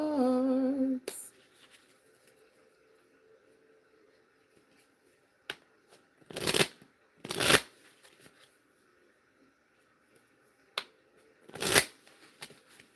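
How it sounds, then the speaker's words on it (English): Several short bursts of tarot cards being shuffled, crisp riffles separated by quiet gaps, after a brief hum at the start. "Let me shuffle my"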